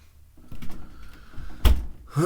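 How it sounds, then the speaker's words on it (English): A door thumps shut indoors partway through, a single solid knock after some shuffling movement, with a faint sound at the end. "Hold on, shut the door."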